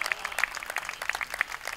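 A modest baseball crowd applauds Greg Floyd during a Kent State game against Bowling Green, light patchy clapping heard at a distance, soft and uneven.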